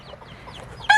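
A farm flock of chickens with a rooster gives soft, scattered clucks close by, ending in a brief sharper squawk.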